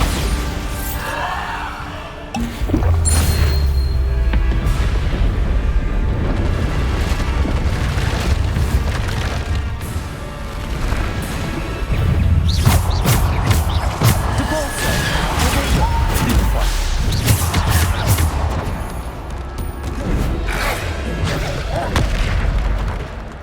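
Bombarda spell explosions in the video game Hogwarts Legacy, repeated loud booming blasts and crashes over roughly twenty seconds, with battle noise between them.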